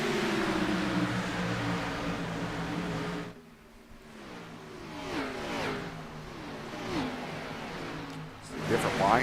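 Race cars at Kansas Speedway in the iRacing game drone with steady engine tones that rise and fall in pitch as they pass, under continuous commentary talk, with a brief dip in the middle.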